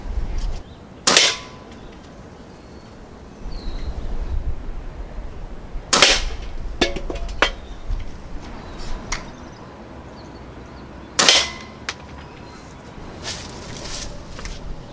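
An Umarex Ruger Superpoint .22 air pistol fires pellets at targets about ten yards off, three sharp cracks spaced several seconds apart, with small clicks and handling noises between shots.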